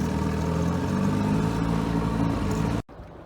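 A Chrysler outboard motor idling low on an inflatable boat on Folsom Lake, a steady close mechanical drone running evenly before it cuts off abruptly near the end, leaving quiet.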